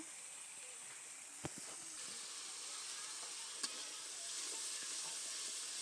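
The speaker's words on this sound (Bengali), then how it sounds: "মশলাটা নেড়ে চেড়ে ভালো করে ভেজে নিব" A ground spice paste of onion, garlic, green chilli and cumin frying in a pan, giving a steady soft sizzle and hiss with a couple of sharp clicks from stirring, fairly faint and with no voices.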